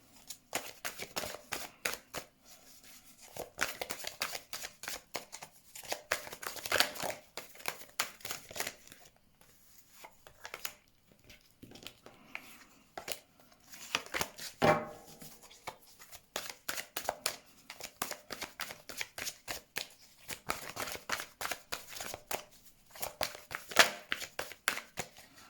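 Oracle cards being shuffled by hand in repeated bursts of quick riffling flutter, close and fairly quiet, with short pauses between rounds and no talking.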